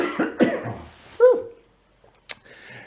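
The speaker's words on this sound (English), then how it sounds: "Excuse me a moment, I got a cough." A few harsh coughs from one person close by, then a short quiet gap and a faint sharp noise.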